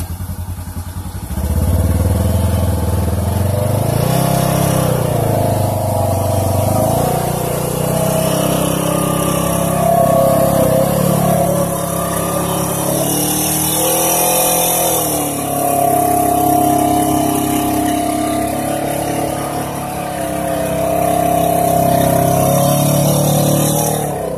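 An HF 5000 winch hauls a Polaris RZR 900 on portal gear out of thick mud, the motor note straining and shifting in pitch against a running engine that rises and falls, loud and continuous throughout.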